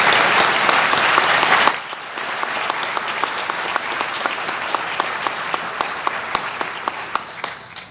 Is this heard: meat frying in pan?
no